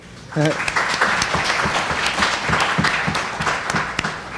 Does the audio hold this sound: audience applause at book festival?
yes